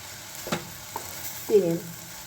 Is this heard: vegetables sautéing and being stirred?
yes